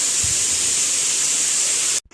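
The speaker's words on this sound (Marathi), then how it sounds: "शिट्टीचाही तुम्हाला आवाज येत असेल शिट्टी होते" A steady, loud hiss of steam escaping under pressure from a pressure cooker whistle cooking dal, continuous for about two seconds before cutting off abruptly.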